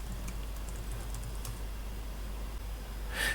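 Faint, quiet keystrokes on a computer keyboard while entering a user address during Windows 365 setup, a few light, scattered taps over a steady low hum, with no talking.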